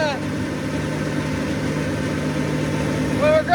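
Farm tractor engine idling outdoors during hog feed grinding, a steady, close, rumbling drone with a slight rise near the end.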